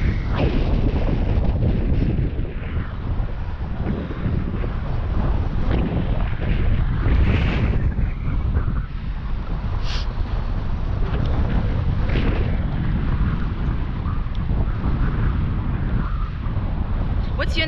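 Strong wind buffets the microphone outdoors on a boat, a loud, continuous low roar with gusty surges throughout, and voices talking faintly beneath it.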